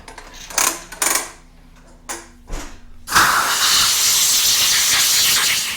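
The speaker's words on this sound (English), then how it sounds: "I'll take it over to the air compressor and just blow all this off." Compressed air blasts loudly and steadily over disassembled carburetor parts from a 1977 Johnson 9.9 outboard, a continuous hiss that begins abruptly after a few clicks and knocks of handling and runs unbroken to the end.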